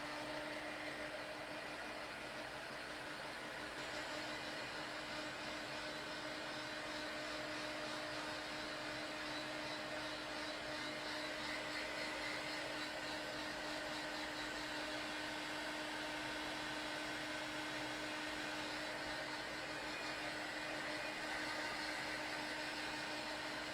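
A hair dryer runs continuously at a steady, constant drone for the whole stretch, drying paint on handmade pink fairy ornaments, faint and unchanging with no talk over it.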